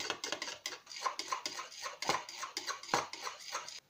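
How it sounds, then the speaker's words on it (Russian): A utensil clinks and scrapes rapidly against a bowl as eight eggs are whisked for an omelette, a quick steady rhythm close by with no talking. "Потом размешиваем."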